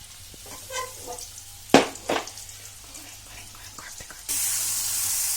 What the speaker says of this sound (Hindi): ये जो भिंडी में मैं मसाले भर के ये शैलो फ्राई करने रखी है